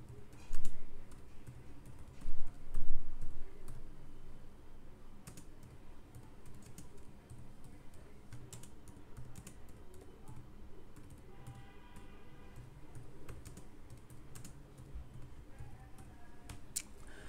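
Someone types a message on a computer keyboard, a close run of fast, uneven key clicks with a few louder taps near the start, then lighter steady tapping.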